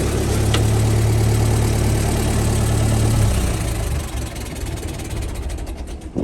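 A Massey Ferguson 135 tractor engine idles close by with a steady low chugging rumble, then the note drops and roughens toward the end as it runs down, with no talk over it.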